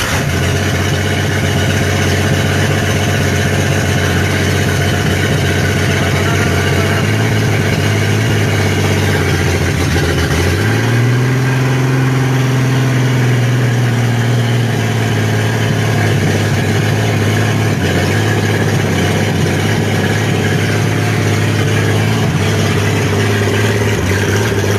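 A Ford Falcon 221 engine with no exhaust fitted runs loud and close with a raw, continuous throb. Midway it revs up to a higher, stronger note, then settles back to a steady idle.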